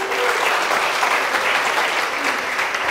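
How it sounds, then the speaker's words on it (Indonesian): Steady, dense applause from a large audience at a talk show fills the whole moment, loud and continuous, with no pauses. "Tepuk tangan sekali lagi."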